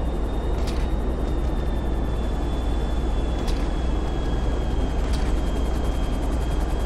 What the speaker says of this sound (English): Oh, there's two helicopters here now.